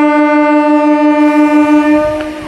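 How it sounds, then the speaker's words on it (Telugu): A train pulls into Kolakaluru Halt railway station, its horn holding a long, loud, steady blast close by with a low rumble of the wagons underneath, then trailing off near the end. "మన ట్రైన్ వచ్చేసండి కొలకలూరు హాల్ రైల్వే స్టేషన్కి అయితే వచ్చేసింది"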